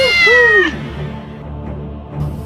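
A cat gives a loud, clear meow with a rising and falling pitch, followed by quieter background noise.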